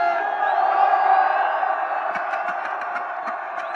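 A festival crowd cheers and shouts in a loud, continuous roar with whoops rising above it, then a run of sharp rhythmic claps or beats in the final second and a half.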